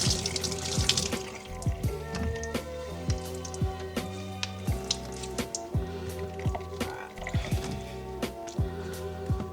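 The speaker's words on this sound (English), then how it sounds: "And just wring out all the excess water." Water trickles and drips steadily from wrung-out fabric, with wet squishing and light splashes into a basin, up close, without any talking.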